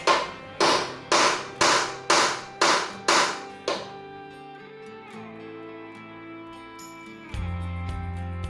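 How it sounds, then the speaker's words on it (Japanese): A hammer strikes the side of a Honda CL50 motorcycle engine seven times in an even rhythm, loud and close, then a ringing metallic hum fades before a low drone starts. "ちょっとね、これで横から叩いてみます。"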